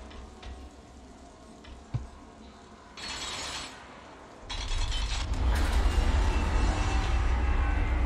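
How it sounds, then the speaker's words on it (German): In the video game Darksiders, a train wagon rolls on rails, a low rumble that swells and grows louder and fuller with hissing, sizzling noise over the final seconds. "Da haben wir auch noch einen Zug."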